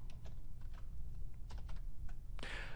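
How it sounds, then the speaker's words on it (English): Typing on a computer keyboard, a steady run of close key taps with irregular rhythm over a low background hum, ending in a brief louder burst of clatter; no one speaks. "you could simply type in all of your work"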